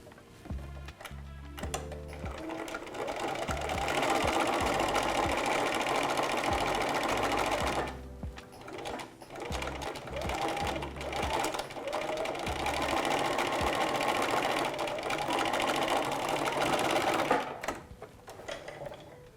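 A sewing machine top stitches a seam through thick fabric, its needle hammering in a fast, even mechanical whir close by, broken by short pauses and restarts, with a few faint bursts of start-stop clatter near the beginning.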